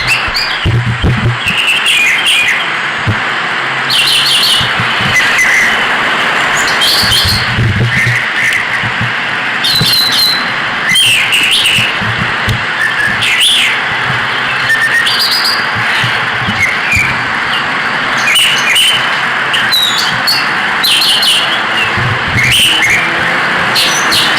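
Birds chirp and tweet steadily through a backyard in mating season, with bright overlapping calls repeating throughout, fairly close and loud, over a faint background rumble that may be passing traffic.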